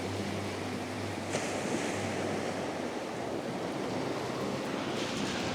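Ocean surf rolling onto the shore at sunrise at Port St., a steady, close wash of breaking waves with wind noise on the microphone and no voices.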